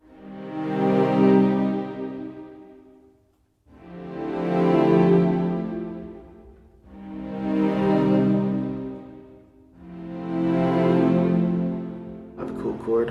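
Short live-recorded string texture pulsing in four quicker swells that rise and fall, with sustained bowed harmonics and a brief noisy tail at the end.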